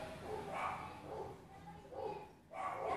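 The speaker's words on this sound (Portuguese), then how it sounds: "Eu liguei aqui o celular, os cachorros começaram lá." Several dogs bark somewhere away from the recording spot, faint repeated yapping bursts spaced about half a second to a second apart.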